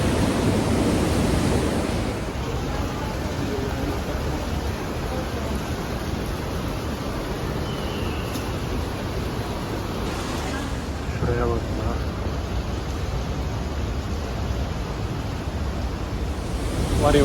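Steady rushing water pours continuously through a large canyon in the Alps near Oberstdorf, Germany, a dense broadband roar that stays loud and unbroken, with faint voices briefly audible partway through.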